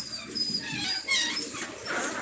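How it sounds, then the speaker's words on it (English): A pet dog named Bubba barks loudly indoors in a few sharp, close bursts over about two seconds, with no talking. "You can't be barking loud like that."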